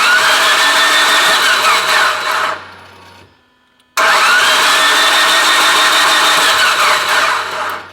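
A Mitsubishi Evo 8 with an engine fault cranks over loudly and up close in two long grinding bursts, separated by a brief pause of near silence, with no voices.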